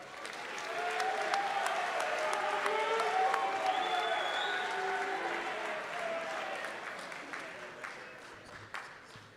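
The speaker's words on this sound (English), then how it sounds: "Give them a round of applause." Audience applause fills a college athletics awards ceremony after sports honorees are announced, a steady dense clapping that swells in the first seconds, holds for several seconds with scattered voices mixed in, then gradually fades toward the end.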